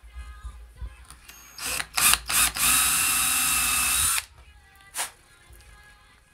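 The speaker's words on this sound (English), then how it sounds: "And I'm gonna drill a hole." A power drill bores a hole in wood with a bit slightly larger than a saw blade, during work on a Singer sewing machine motor; short bursts lead into one steady loud run of about two seconds, then a brief blip.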